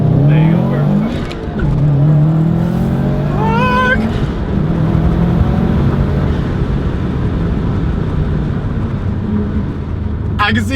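A 2019 Subaru STI launching from a standstill with the clutch slipped and then accelerating hard; a loud, continuous engine roar rises in pitch, with brief talk near the start.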